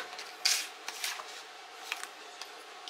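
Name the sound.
cutting paper into pieces with scissors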